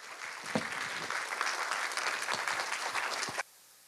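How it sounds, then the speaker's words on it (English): Audience applause at a scholarship award ceremony fills the room with steady, dense clapping and a few sharper claps, then stops abruptly. "Ladies and gentlemen, a round of applause for Dr. Willie Banks, Jr."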